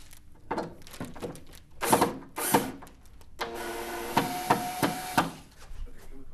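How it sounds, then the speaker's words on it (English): Phillips head screws removed from a Multilab 2 vascular testing instrument, with close, quiet clicks, taps and scraping handling noises in an irregular sequence, then a denser rattling stretch with sharper knocks. "What you're going to need first is to remove the Phillips head screws."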